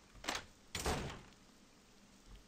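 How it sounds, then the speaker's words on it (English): A locked door in the horror game Paranormal Syndrome rattles twice in quick succession, two short clattering bursts, the second louder and longer, followed by a faint bump in a quiet room. "The door is locked."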